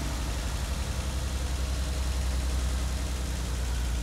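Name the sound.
BMW E30 engine running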